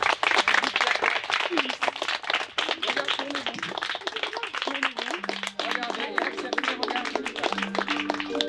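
A school audience claps for a class of pupils, a dense, steady patter of many hands running throughout, with voices talking over the clapping.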